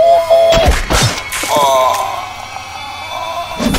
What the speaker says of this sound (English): Oh, harpoon gun.